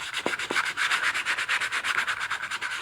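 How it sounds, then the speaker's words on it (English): Rapid, rhythmic back-and-forth sanding strokes rasp against a bag's surface and along its stitching, close and steady, after two light taps at the start. "I'm even sanding along where the threading is."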